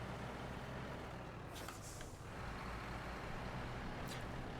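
A fuel truck in SnowRunner idles with a low, steady engine rumble, broken by two short hissing releases of its air brakes, one near the middle and one near the end.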